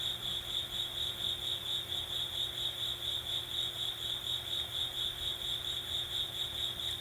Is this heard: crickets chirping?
yes